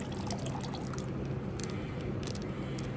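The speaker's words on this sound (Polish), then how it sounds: "Teraz trzymamy tu, wylewamy wodę." Water is poured out of a pan while panning for gold in Alaska: a steady, close splashing and trickling wash with small drips, continuous throughout.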